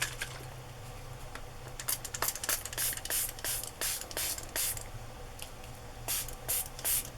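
Navy blue colour is sprayed onto a page in a run of short, close pumped bursts of hissing mist, irregular at first and then more regular, with no talking.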